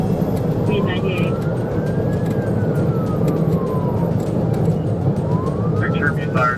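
A police siren wails in slow rising and falling sweeps over loud road and engine roar during a high-speed chase, with brief radio-like voices breaking in near the start and end.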